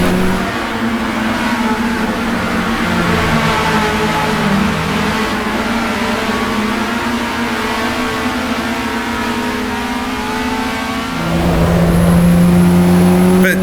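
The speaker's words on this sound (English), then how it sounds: "A whole pack of S2000s as they try to avoid each other, make very erratic moves on the steering wheel." A pack of Honda S2000 race cars in Assetto Corsa EVO, engines roaring loud and continuous at high revs, overlapping as the pack runs close together, with a deeper engine note swelling near the end.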